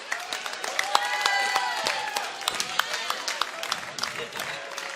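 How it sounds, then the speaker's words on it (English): Crowd applause rises at an antweight robot combat esports tournament, with sustained clapping and a commentator's voice running over it throughout. "can we just get a round of applause for Odium on his first event here tonight?"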